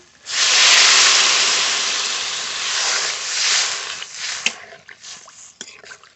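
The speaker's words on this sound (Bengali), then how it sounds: "কষানো হয়ে গেছে এবার জল দিয়ে দেব" Water poured onto sautéed cumin and green chili paste in a hot pan hisses loudly all at once, the steamy hiss fading slowly over several seconds. A few faint clinks follow as it dies down.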